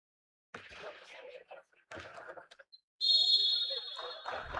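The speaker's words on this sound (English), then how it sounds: "The refs are just blowing the whistle." A referee's whistle at a men's basketball game in Castle Arena sounds one long, loud, steady blast, following a stretch of crowd chatter and thuds.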